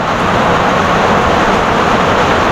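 Heavy rain pouring down at a calamansi farm, heard from a hut as a loud, dense, unbroken hiss and roar that stays level for the whole stretch.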